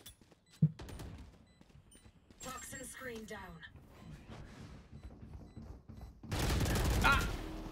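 Gunfire from a round of the shooter game Valorant: a brief burst of shots near the start, then a loud, dense crackle of rapid fire and impacts toward the end, with voices talking through much of the clip.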